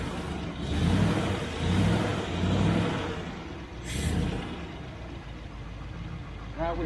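Triumph Stag engine with Stromberg CD175 carburettors idling steadily after an idle screw adjustment, a low continuous rumble with slight swells and a brief hiss near the end.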